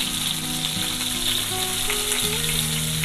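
Pieces of liver fry in a hot pan for a Turkish-style dish, giving a loud, steady, dense sizzle that runs without a break, with no voices over it.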